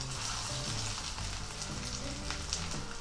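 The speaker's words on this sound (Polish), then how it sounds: "Tłuszcz się rozgrzał, więc wkładamy kotlety." Pumpkin and buckwheat patties fry in hot fat in a pan, producing a loud, steady, close-up sizzle and crackle that continues without a break and without any talk.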